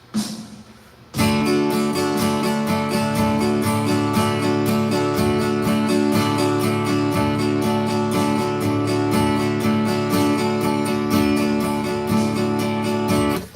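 A guitar strums a fast, steady sixteenth-note rhythm, with evenly spaced strokes running continuously after a brief opening.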